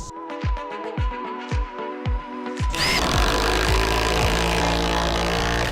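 A power tool drives lag bolts into wooden 4x4 posts through a deck, first in short repeated bursts, then in one long continuous loud run.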